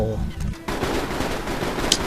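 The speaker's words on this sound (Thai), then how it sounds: "เสียงปืนดังมาจากไหนครับ" Rapid bursts of gunfire in the video game Mercenaries 2 crackle continuously, loud and dense, with a brief quieter gap near the start.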